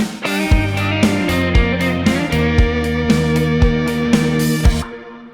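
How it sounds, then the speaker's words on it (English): A synthesized melodic figure from a pop song plays in repeated plucky notes over a steady beat with sharp percussive hits, bright and upfront with no voices. "I've used the same melody and it plays right at the end of every 4 bars."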